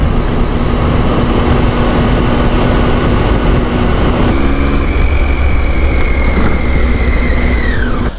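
A loud, steady motorcycle engine drone with wind rush, heard while riding, the pitch shifting slightly before dropping away at the end.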